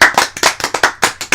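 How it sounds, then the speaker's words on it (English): Sharp, rapid hand claps in a steady burst, loud and close, like a small group applauding together with no voices over it. "Round of applause."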